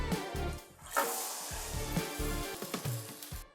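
Boiled peas tipped into a spice paste frying in a pan, giving a broad sizzle with scraping and stirring clatter that rises on the drop and then settles into steady frying.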